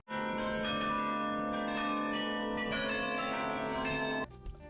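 A giant musical roll, like an oversized music box, drives a peal of bells in a tower in Germany: several bells ring loudly and continuously, overlapping sustained tones that stop abruptly near the end.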